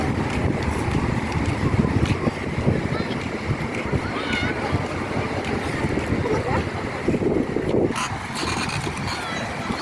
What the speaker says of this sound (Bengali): প্রচুর ঢেউ এবং খুবই ঠান্ডা বাতাস